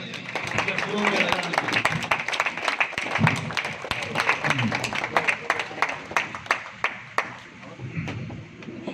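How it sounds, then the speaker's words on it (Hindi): A standing ovation at a political gathering in Aurangabad, dense clapping that thins into scattered individual claps toward the end, with voices murmuring underneath. "खड़े होकर तालियां बजाइए"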